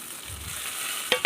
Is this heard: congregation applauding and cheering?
no